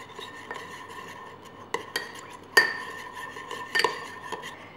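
A spoon stirs a lemon juice paste in a bowl, giving irregular light clinks and scrapes against the sides, close and quiet, with no talking.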